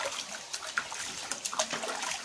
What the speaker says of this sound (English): allow some water from the pond gradually